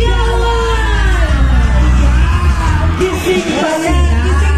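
A festival crowd at the Morong Music Fest roars with loud yells, whoops and shouting, a dense sustained wall of cheering close by with a brief dip before surging again.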